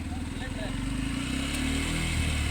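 A Royal Enfield Bullet motorcycle idles close by with a loud, steady, thumping low engine beat throughout, and people talk over it.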